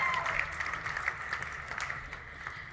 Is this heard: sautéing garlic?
no